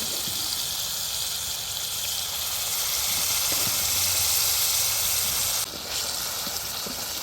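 Turnip and spinach saag being fried in a pan gives a loud, steady steamy hiss close by that briefly dips near the end, with no speech.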